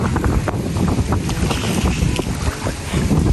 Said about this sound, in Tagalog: Napakalakas naman po ng hangin.